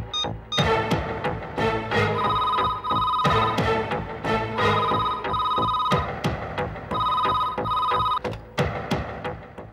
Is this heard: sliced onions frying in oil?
no